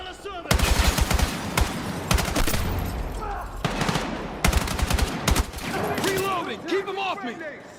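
Rapid bursts of automatic gunfire crackle loud and close in a video game firefight, clustered volleys separated by brief pauses, with scattered single shots and shell-like pings near the end.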